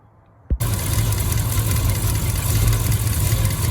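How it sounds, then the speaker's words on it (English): A Triumph Stag engine with a suspected blown head gasket cranks and fires abruptly, then settles into a steady, loud, close idle that runs unbroken to the end. "We're going to go switch on the engine now"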